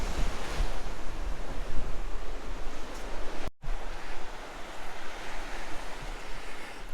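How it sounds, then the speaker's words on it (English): Surf rolls onto the beach at Punta Prima on the Costa Blanca near Torrevieja, a steady wash of breaking waves mixed with wind buffeting the microphone, with a brief dropout midway. "Just walking down onto the beach here"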